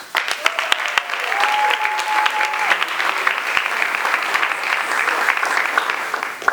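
Audience at a ceremony honoring a high school state champion wrestler applauds steadily and warmly throughout, a dense clapping crowd indoors with a faint voice or tone briefly audible early on.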